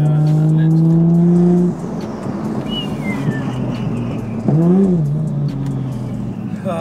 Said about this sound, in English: The turbo whistle's beautiful, man.